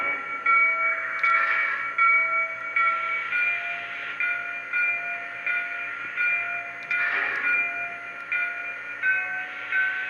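A Lionel Great Northern 1385 Pacific model locomotive's alternate higher-pitched bell: a continuous bright ringing tone repeating in steady pulses, close and fairly loud, with a faint hiss underneath.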